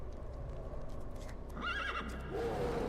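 Horse neighing in the video game Secret World Legends: two shrill whinnies in quick succession, the second lower and drawn out, over a soft ongoing clop of hooves.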